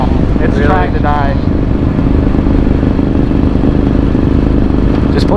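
A Yamaha R1 motorcycle engine runs roughly in traffic as it sputters toward dying, producing a loud, dense, continuous rumble close to the mic, with a short tonal whine early on.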